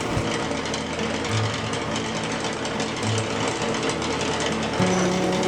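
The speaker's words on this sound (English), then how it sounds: "Now I'm taking it over to the drill press, where I'm creating a hole for the threaded rod." A drill press boring a hole through a black poisonwood burl for a lamp's threaded rod, producing a loud, continuous rattling, buzzing grind that holds steady close by, with a few low motor hums shifting underneath.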